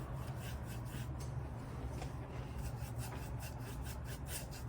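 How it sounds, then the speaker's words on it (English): A dry brush scraping black acrylic paint across a canvas, soft continuous rubbing strokes in quick succession, close and faint over a low background hum. "You're just kind of scraping it in there."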